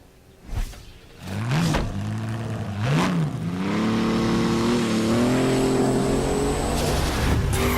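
A race car in The Crew drives a shakedown lap, its engine revving up through rising and falling pitch sweeps before settling into a loud sustained high-revving drone, with a brief tire squeal early on.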